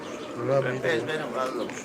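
Pigeons coo in soft, rolling bursts close by, several calls overlapping in quick succession while people talk nearby.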